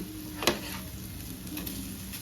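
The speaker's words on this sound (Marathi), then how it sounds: "आता इकडे पण छान मंद गॅसवर तळून घ्यायचे" Veg fish pieces fry in a pan over low gas, giving a steady, even sizzle with one small pop near the start. No one speaks.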